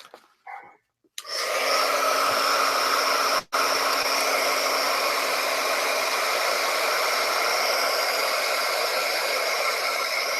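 A hair dryer blowing on paint switches on after a short soft noise and roars in a steady, loud hiss, dropping out for an instant before resuming and running continuously to the end.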